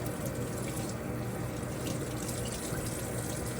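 A sink faucet runs steadily with warm water rinsing raw chicken, a close, continuous splashing gush that stays at an even level throughout.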